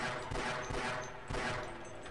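Enemy gunfire in the Half-Life video game: two loud clusters of rapid, crackling shots, each volley swelling and then tailing off into echoing noise.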